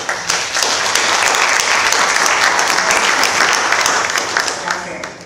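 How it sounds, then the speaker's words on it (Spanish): Crowd applause at a public forum on universal health care in Puerto Rico, dense clapping swelling quickly and holding for several seconds before tapering off. "Un aplauso para ellos."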